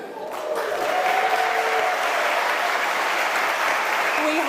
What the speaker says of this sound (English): have a very enthusiastic crowd here as well at the Mayo campus